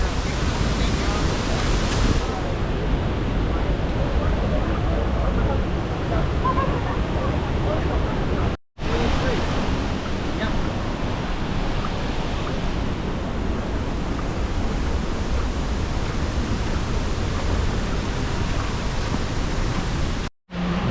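A waterfall pours steadily as a broad, constant rush of cold water, loud and close throughout with only two brief drop-outs, while a voice speaks faintly beneath it.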